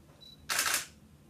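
A camera shutter fires once during a slow exposure, a short soft burst of mechanical noise rising and fading within about a third of a second in an otherwise quiet room.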